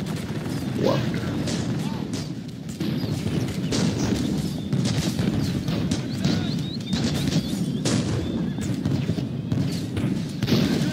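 Musket and handgun fire from mercenary rebels during the 1510 siege of Genoa in a strategy video game, a dense crackle of shots and impacts throughout over steady battle noise, with a voice talking over it.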